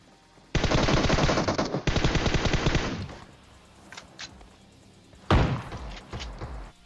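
Automatic fire from a Groza and an MK14 rifle in the PUBG video game: two long, rapid, close bursts, then a few scattered single shots, and another short loud burst.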